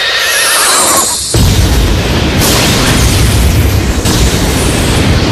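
A loud Beyblade film special-attack explosion booms and keeps rumbling, a dense roaring blast with bright whooshing bursts layered over it, after a brief high whinny-like cry.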